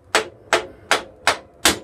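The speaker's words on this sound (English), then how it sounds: "Out comes the troll hammer." Five sharp metallic hammer blows on a Honda CB500 motorcycle axle land at a steady, even pace, loud and close with brief ringing after each strike.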